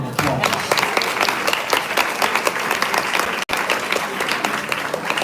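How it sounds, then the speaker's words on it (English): A room of guests at a women's awards ceremony applauds continuously, a dense, even wash of many hands clapping close by with no voices over it. "Let's give that a round of applause"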